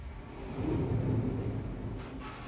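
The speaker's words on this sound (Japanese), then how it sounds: "扉の向こうから何かが動く低い音が聞こえてきた" A low, muffled rumble from behind a door in Kamaitachi no Yoru 3 swells and lingers, deep and distant-sounding, with faint scraping near the end.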